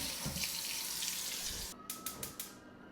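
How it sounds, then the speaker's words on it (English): Potatoes are scrubbed under running tap water, a steady close stream that stops partway through, followed by a few short clattering knocks. "I'm going to go ahead and get these potatoes scrubbed up and cleaned"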